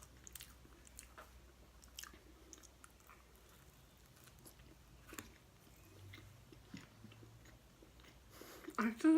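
Someone chews a BBQ chicken and bacon pizza crust close to the mic, with soft, quiet, irregular bites and mouthy squishes, and a louder clatter at the very end.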